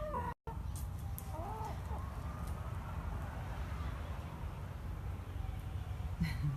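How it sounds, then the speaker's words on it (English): A rooster and a hen coming down, clucking softly at a moderate distance over steady low outdoor rumble, with a brief dropout near the start and no speech. "I just wanted to show you the rooster and the hen coming down."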